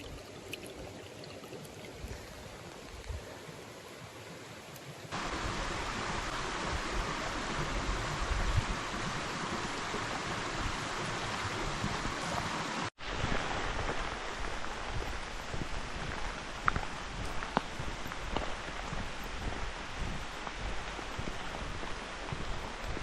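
A river rushes steadily nearby, a broad continuous wash of water that grows louder partway through and keeps a constant hiss, with no talking.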